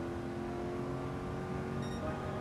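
The engine of a 1971 Ford Mustang Mach 1 in Gran Turismo 7 gives a steady, loud, droning hum with sustained tonal harmonics, held at a constant pitch through a lap.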